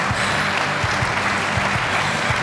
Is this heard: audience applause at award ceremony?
yes